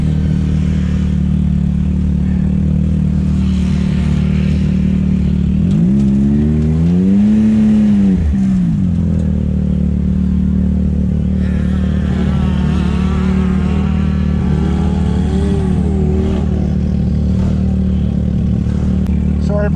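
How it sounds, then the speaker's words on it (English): A 2020 Can-Am Maverick X3 XRC Turbo RR side-by-side runs in a snowcross race, its engine droning loud and steady with rising and falling revs, a sharp surge midway and further swells later, while voices talk over it. "We're gonna race another powerhouse Can-Am, boys."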